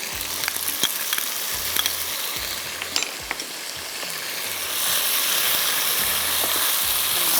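Ginger and garlic fry and sizzle in a pan for a masoor pulao, a steady crackling hiss broken by stirring clatters and scrapes that grows denser toward the end.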